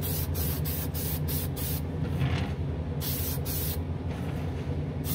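Testors Extreme lacquer hisses from a spray can onto a model car body in short repeated bursts at first, then in longer continuous passes, fairly close, over a low steady background hum.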